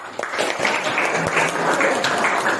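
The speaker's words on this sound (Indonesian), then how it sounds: "Pakai aplaus buat tim." A classroom audience applauds a presenting student team in a steady burst of many hands clapping together, moderately loud and sustained throughout the short stretch.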